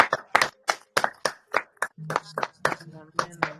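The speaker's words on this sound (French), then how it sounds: "Clap your hands for Jesus." Congregation at a Christian church service clapping hands in sharp, fairly regular bursts, close and loud, with a voice talking between the claps.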